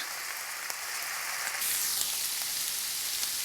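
Philly cheesesteak topping fries in a pan with a steady crackling sizzle like light rain, growing a little louder partway through, with no voices.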